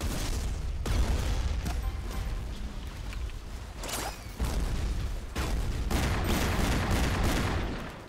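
Gunfire in the cartoon shooter Battlefield Heroes comes in bursts of rapid shots and sharp cracks, loud and near, with brief lulls between volleys.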